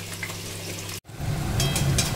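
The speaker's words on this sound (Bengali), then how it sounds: "দেখো মূলো আর আলুটা লাল লাল করে ভাজা চলছে, আর একটু লাল হবে।" Radish and potato pieces frying in oil in a pan, a steady close sizzle with a brief break midway before the hiss returns a little louder.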